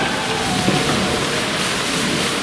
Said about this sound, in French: Ah oui, mais il pleut.